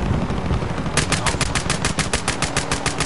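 Rapid automatic gunfire in a zombie video game, a loud steady stream of evenly spaced shots about ten per second, starting a second in and continuing over dense game background noise.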